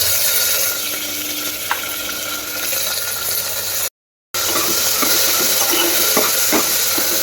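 Tomatoes and chopped onion with cumin, curry leaves and ginger-garlic paste frying in a pan for masala rice, a steady close sizzle with scraping stirs and occasional clinks, briefly cut to silence midway.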